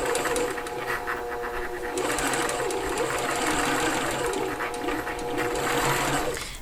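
A sewing machine stitching through very thick fabric, a close continuous mechanical whirring hum with rapid rhythmic needle chatter, briefly easing then running steadily again.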